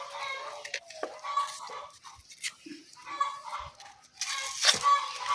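Chickens on a poultry farm clucking and calling intermittently at close range, with scattered squawks and some background rustling throughout.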